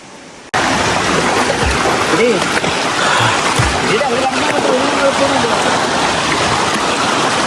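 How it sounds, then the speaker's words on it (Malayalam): A roaring, close-up waterfall, Kallar falls near Ponmudi hills, Thiruvananthapuram, begins abruptly after a moment of near silence and pours on steadily, with voices talking faintly beneath the rush. "ഇതാണ് നമ്മുടെ കല്ലാർ വെള്ളച്ചാട്ടത്തിന്റെ ഭാഗം"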